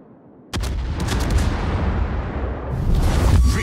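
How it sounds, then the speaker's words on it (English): Naval guns fire on a target in a warship battle game as a loud boom opens a sustained roar, with a few sharp cracks and a second heavy surge near the end. "Stations, concentrate fire on that target."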